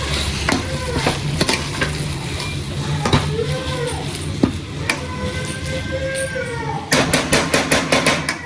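A spicy egg dry roast being stirred in a pan, with a spoon scraping and clattering against the metal over a steady sizzle. Near, moderately loud, and at the end a burst of quick, rhythmic taps.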